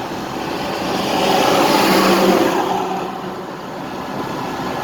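Steady low rumble of an electric one-ton truck hauling a trailer, cruising along the road, with broadband road and wind noise swelling slightly then easing.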